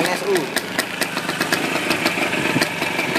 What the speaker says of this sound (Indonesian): Oke guys, ini dia suara si NSU.